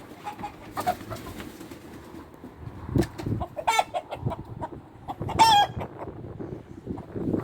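Chickens and two roosters clucking and calling inside a hen house, with a repeated tonal crowing call standing out among busy, close clucks and scuffling, no speech.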